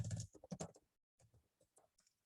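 Keys tapped in a quick burst of clicks while entering a shell export command for a code-along web app project, close and clear, then a pause and a few sparser, softer keystrokes.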